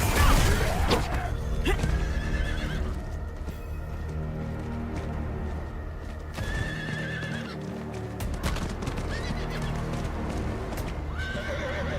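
A horse galloping and neighing in Diablo IV, with loud steady clip-clop hoofbeats running throughout, several whinnies rising above them, and game music underneath.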